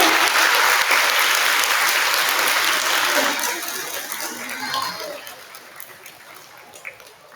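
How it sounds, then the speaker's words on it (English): A crowd at a kindergarten awards program applauds loudly and steadily, the clapping gradually thinning and fading toward the end with a few scattered claps. "Let's give him a round of applause."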